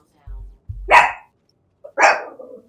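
A dog barks twice close to the microphone, two sharp separate barks about a second apart, with a brief low thump and faint game audio in an otherwise quiet room.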